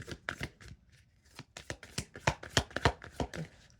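Tarot cards being shuffled by hand, a quick run of crisp riffling flicks and soft slaps in an irregular rhythm, close and clear with no talking.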